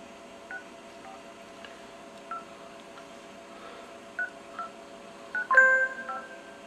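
A phone dials out with a string of short, separate DTMF keypad beeps, close and clear, ending in a longer, louder tone burst, with no talk.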